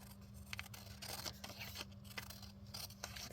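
Scissors snipping through scrap book-page paper for a handmade envelope: a few crisp close cuts and rustles, quiet, over a low steady hum, with no talking.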